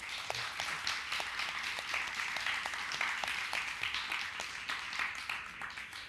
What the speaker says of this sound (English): let's start with a big round of applause for these incredible people here today